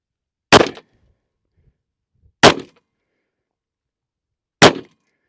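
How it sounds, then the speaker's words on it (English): Three shots from a TISAS Bantam carry 1911 pistol in .45 ACP with 230-grain reloads at a 7-yard range. Each report is loud and sharp, spaced about two seconds apart, with silence between. "I'm going to see what we can shoot with 3-round group."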